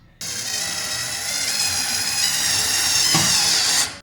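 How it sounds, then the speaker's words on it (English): A power drill whirs steadily for nearly four seconds driving a self-tapping screw into extruded aluminium, pitch climbing slightly as the screw bites in, then stops abruptly. "when I screw that in there, the screw getting screwed in there will kind of create its own thread."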